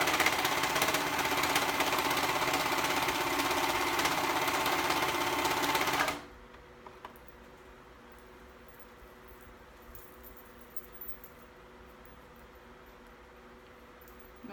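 A sewing machine stitches a dress bodice, running loud and steady for about six seconds before stopping abruptly, leaving a faint quiet room.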